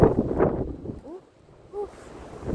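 Gusty wind buffets the microphone outdoors, a strong blustery rush at first that drops away briefly before rising again, with faint voice-like tones in the lull.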